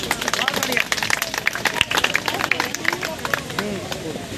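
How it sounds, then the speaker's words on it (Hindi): A crowd of children and adults clapping for the winner of a rangoli competition at an outdoor celebration, with dense, steady applause mixed with loud babble and chatter throughout. "तालियां बजा दो बेटा"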